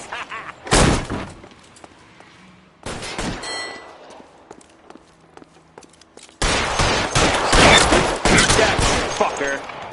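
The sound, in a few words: gunfire in a shootout in video game L.A. Noire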